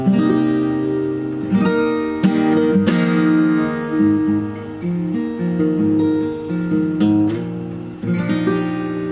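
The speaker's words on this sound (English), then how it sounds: "this is the tuning that I use to compose all the acoustic guitar parts in the song" An acoustic guitar in an alternate tuning with a capo is strummed and picked with ringing open strings, playing a bright chord pattern alone with a few sharp accents.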